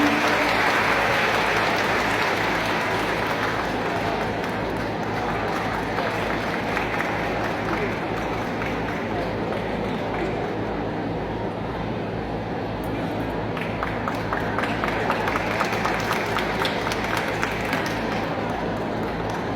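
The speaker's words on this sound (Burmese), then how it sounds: "ဂုဏ်ပြုလက်ခုပ်သမ်းများချီးမြှင့်" An audience at a university contest applauds a first-prize winner with sustained dense clapping that runs throughout, with a public-address voice speaking over it.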